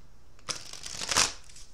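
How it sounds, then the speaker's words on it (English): Tarot cards shuffled by hand in quick riffling bursts, brushing and flicking close by, with louder clusters in the middle and a soft tap near the end, no talking. "I don't know why I'm still shuffling."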